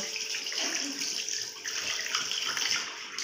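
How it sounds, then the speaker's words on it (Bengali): Tap water runs steadily into a sink basin while hands are washed, a continuous close hiss and splash without any talk. "হাতটা ধুয়ে নিচ্ছি বেসিনে"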